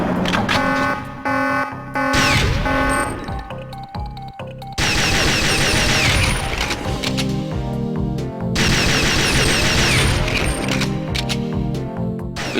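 Gunfire from the MagSec 4 pistol in the video game Perfect Dark sounds on a firing range as sharp, rapid shots in clusters, mixed with electronic game tones and beeping over a busy, loud background.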